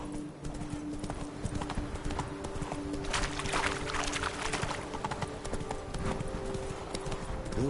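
Roach, a horse in The Witcher 3, gallops with quick, steady hoof clip-clops throughout, close and moderately loud over a continuous background bed of game ambience.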